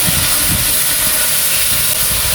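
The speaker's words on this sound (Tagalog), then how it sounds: "magigisa na ako ng luya, bawang, sibuyas, kamatis" Ginger, garlic, onion and tomato sautéing in a hot pan, a loud continuous sizzling hiss with soft crackling underneath, steady for the whole stretch.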